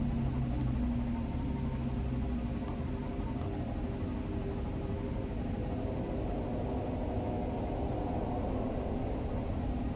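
Low, sustained groaning and rumbling of the wrecked Aurora ship in Subnautica, a dull continuous drone heard alone with no voices over it.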